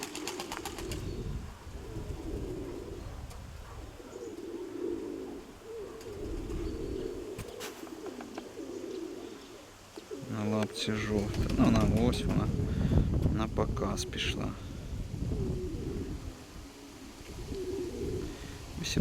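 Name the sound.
racing pigeons cooing and landing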